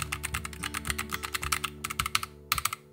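Typing on a Keychron K1 SE mechanical keyboard at home, a steady run of crisp, close keystroke clicks with a few brief pauses and no talking.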